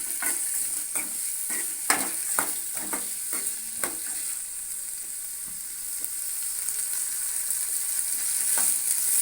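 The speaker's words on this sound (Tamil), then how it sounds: "இப்போ வந்து வெங்காயம் நல்லா வதங்கட்டும்." Sliced onions sautéing in a pan over a medium flame for an egg masala, with a steady soft sizzle and intermittent scraping clicks of a spoon stirring, fairly quiet and without talk.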